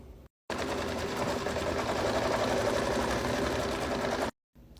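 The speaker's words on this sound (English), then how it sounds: "we're going to tack this down with the machine" An embroidery machine stitches in the hoop, tacking fabric down for a beach bag in one steady, rapid mechanical burst about four seconds long, with silence just before and after.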